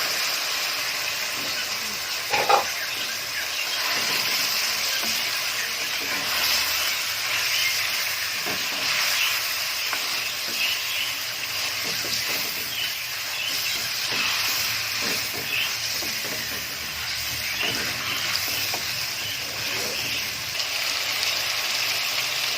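Chicken sizzles in a pan with browned fried onions for a chicken karahi, a steady loud hiss and crackle running throughout.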